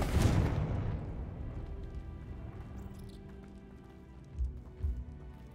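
An explosive blast from the Confringo spell in a Harry Potter video game booms loudly at the start and rumbles away, followed later by a couple of softer low thuds.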